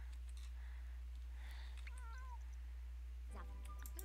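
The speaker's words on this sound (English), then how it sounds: "Oh no, wait, that's a cat." Cat meows inside a pet-care video game, two rising and falling calls near the middle and another toward the end, over steady background hum and soft game sounds.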